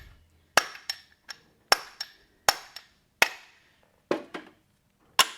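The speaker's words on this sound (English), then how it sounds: "I can loosen those nails up just by giving each nail a little pop here." Sharp metallic hammer taps ring out on horseshoe nails in a draft horse's front hoof, about a dozen distinct close strikes in an uneven rhythm, each with a short bright clink and quick decay, with no talk.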